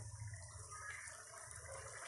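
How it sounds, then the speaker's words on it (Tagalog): Tap water pouring steadily into a pot of mung bean and squash soup being cooked, a continuous close splashing gush with no talk. "Lagyan na po natin mga kaguro ng tubig para sa sabaw."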